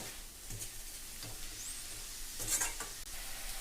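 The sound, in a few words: stirring arai keerai greens with salt and turmeric in pan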